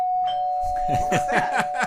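A doorbell rings with a sustained ding-dong tone that carries through the clip, with people talking over it.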